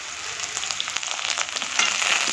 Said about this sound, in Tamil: வெங்காயம் பூண்டு வதங்கிடுச்சு